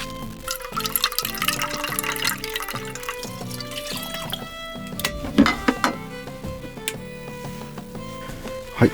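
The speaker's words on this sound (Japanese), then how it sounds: "はい、それではお湯入れて" Hot water from a kettle heated on a portable power station pours into a pouch of instant alpha rice, splashing and trickling in uneven bursts over several seconds against a cluttered background, with no talk.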